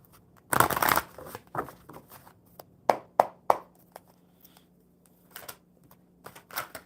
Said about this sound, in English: I am shuffling up the enchanted map cards for you